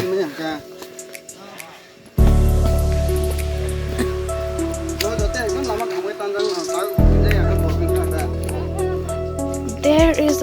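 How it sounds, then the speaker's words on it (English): The Dumla waterfall in Khowai, Tripura, flows as a steady broadband rush of water in the background, while people talk over it and other sounds intermittently cut in. "There is the waterfall."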